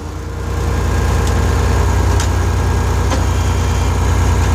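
A TM1200 tractor engine runs loud and steady while driving in dirt, a dense low rumble that swells in the first half second and then holds even, with no talking.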